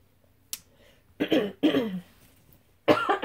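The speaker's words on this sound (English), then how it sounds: "I'm having a really hard time clearing my throat also" Several throat clearings and coughs in short separate bursts, close by and fairly loud, with quiet pauses between them.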